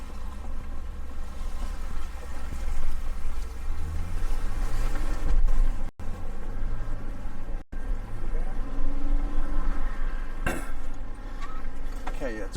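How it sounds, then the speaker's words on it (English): A vehicle drives through the Haunted Stream crossing on a high country track from Mansfield to Tom Groggin, its engine droning steadily with water sloshing and splashing around it and a few brief knocks partway through. "But this is the first actual crossing of the haunted stream."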